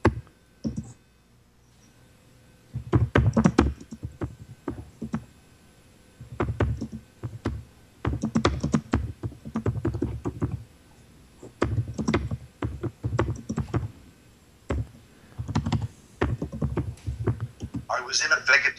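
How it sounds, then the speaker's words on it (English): Someone types on a computer keyboard in rapid bursts of clicking keystrokes separated by short pauses, fairly close and clear in an otherwise quiet room. "he's got a computer that he's typing his response and it gives it to us"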